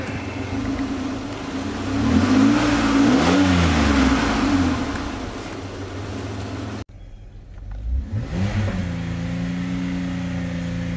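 A Chevy Equinox engine revs hard with the pedal pushed to the floor, a loud rising and falling roar that swells near the middle, cuts out abruptly, then picks back up at a steady drone.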